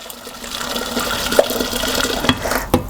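Boiling water pours and gurgles steadily into a hollow copper still, with a few sharp clinks of metal near the end.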